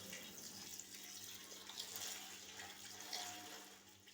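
Gongura leaves are swished and washed by hand in a vessel of water, a continuous close splashing and sloshing with soft watery churns throughout, fairly quiet and without talking.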